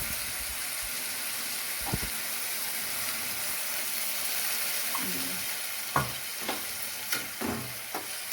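Onions and tomatoes simmer in a pan with a little added water for a mushroom curry, giving a steady soft sizzle with occasional sharp stirring clicks toward the end, no voices.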